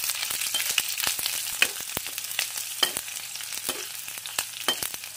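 Onion sizzles in a hot pan alongside garlic, a dense crackling fry punctuated by sharp repeated clicks of a utensil stirring against the pan, close and steady throughout.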